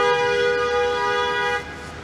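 A car horn blares loudly and steadily for over a second and a half in a snowy Toronto street, then cuts off, leaving traffic noise behind.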